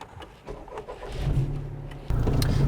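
A Honda Civic Type R hot hatch engine fires and pulls away: a low, steady engine rumble builds and then jumps sharply in loudness near the end as it accelerates, fairly close and with no talking.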